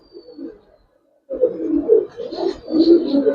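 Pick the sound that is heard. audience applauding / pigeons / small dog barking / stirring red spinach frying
pigeons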